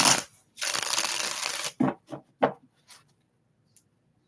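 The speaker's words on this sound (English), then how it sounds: "We're going to do 6 shuffles for Tori." Tarot cards being shuffled by hand: a long dense riffle of cards, then several short separate slaps and flicks of the deck, close and alone with no talk.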